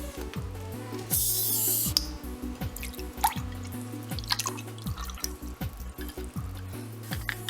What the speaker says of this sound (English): To this, I'll add sparkling water